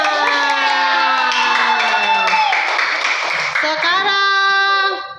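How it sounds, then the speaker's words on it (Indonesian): Children in a combined-grade primary classroom clap and cheer, high young voices shouting and singing out together over the clapping, loud and close before trailing off at the end. "tepuk tangan dulu buat Fatur"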